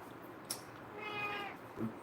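A cat meows once, a drawn-out mid-pitched cry in a quiet room, followed by a short soft chirp, with no one talking.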